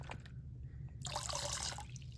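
Water sloshes and drips as a Xiem applicator is shaken over a bucket of clean water, a brief close splashing burst over a low background hum.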